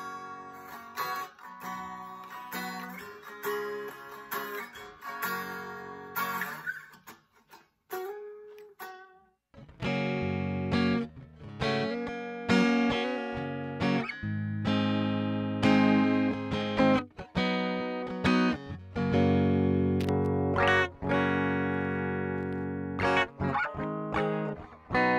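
An unplugged Washburn Lyon HSS electric guitar, thin bright strummed chords and picked notes ringing close up in a loose rhythm, with a brief pause near the ten-second mark.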